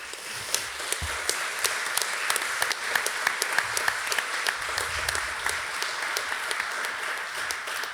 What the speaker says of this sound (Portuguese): para eles peço um grande aplauso